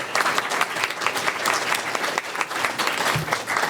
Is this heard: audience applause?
yes